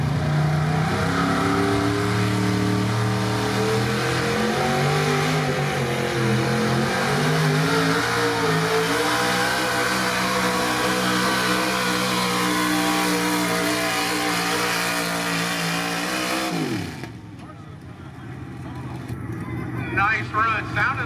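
A 1987 Chevy pro street gas truck roars down the drag strip at Lebanon, Pennsylvania, its engine climbing through gear changes for about seventeen seconds, then cutting out abruptly, with a track announcer's voice heard faintly.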